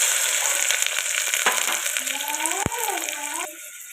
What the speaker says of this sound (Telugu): ముందుగా కట్ చేసి పెట్టుకున్న ఉల్లిపాయలు పచ్చిమిర్చి వేసేసుకున్నాను.